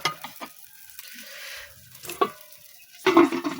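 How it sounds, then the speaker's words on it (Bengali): Small puti fish and eggplant cooking in a covered clay pot, with close stirring scrapes and soft bubbling sizzle, a few sharp clinks and a louder burst of frying near the end; no one speaks. "এই যে এখানে আমি বেগুন দিয়ে আর ছোট মাছ দিয়ে রান্না করছি।"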